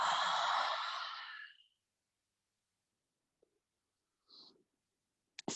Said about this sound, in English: Open mouth, breathe out.